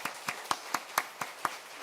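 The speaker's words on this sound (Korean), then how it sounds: "우리 축하의 박수 한번 부탁드립니다" A church congregation at a Sunday service claps in celebration for a young groom-to-be, about eight fairly regular, moderately faint hand claps spaced roughly a quarter second apart, with no talking.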